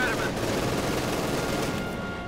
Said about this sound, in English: still the other infantry MG42 shooting up here